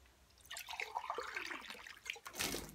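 A homemade alcohol mixture is poured into a wine glass, a quiet, close liquid splash and trickle lasting a couple of seconds that ends in a brief louder gush.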